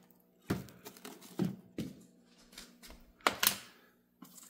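A sharp knife cuts through a cucumber plant stem grown in an Aerogarden Harvest XL hydroponic setup, producing a series of close, crisp snapping clicks spaced irregularly.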